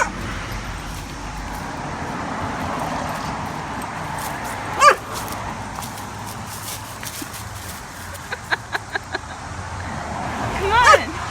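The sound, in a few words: dog barking and whimpering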